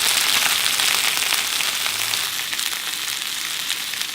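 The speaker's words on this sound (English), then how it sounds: "Okay, I got a nice sear on there." A basil-crusted rack of lamb sears in a new skillet, giving a steady, bright sizzle with crackling spatter that stays loud and continuous throughout, with no talking.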